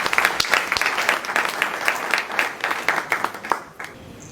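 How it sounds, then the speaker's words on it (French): Applause rings out from an audience at a French-speaking event in Côte d'Ivoire rallying behind the national team for the Africa Cup of Nations, steady dense clapping that trails off toward the end. "On peut applaudir."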